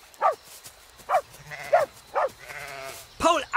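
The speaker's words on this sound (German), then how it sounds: "Laut kläffend jagt Paul den Schafen nach, die blökend das Weite suchen" Sheep in the Minecraft video game bleat as they flee across a grassy slope, five short nasal bleats spaced about a second apart, close and clear, with a faint low rumble between them.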